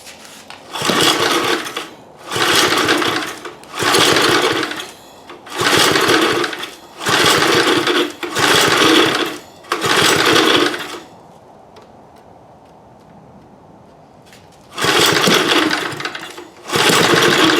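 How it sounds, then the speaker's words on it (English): A small generator engine bought on eBay, bottle fed with fuel, sputters and runs in repeated loud bursts of about a second each, stops for a few seconds, then fires up again close by. "I'm going to try to bottle feed this thing, see if we can get it up to RPM"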